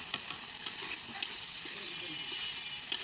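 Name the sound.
small potatoes and whole garlic frying in a pan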